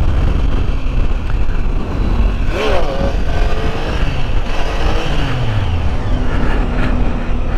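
A Triumph Tiger 800 XC motorcycle engine revs loud and close, its pitch rising and falling through several sharp throttle blips over a constant roar.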